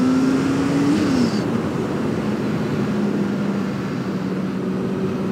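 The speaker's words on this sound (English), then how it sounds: "even now I'm just sort of quarter throttling. It's giving me enough. The turbo's pulling to give me a little juice" A custom turbocharged Honda CBR900 motorcycle engine runs at quarter throttle as a loud, continuous drone with a steady low hum that dips slightly and then holds, plus a faint high whine early on, with no talking.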